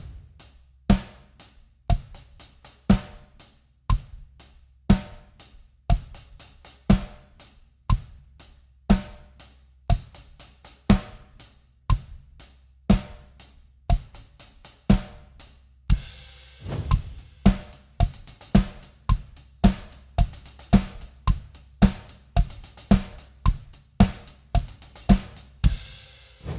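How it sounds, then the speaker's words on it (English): A steady programmed drum beat plays alone, kick and snare driving a tight groove while quick sixteenth-note hi-hat ticks fill the gaps between them. "move those 16th notes on the hi-hat to the 3E anda"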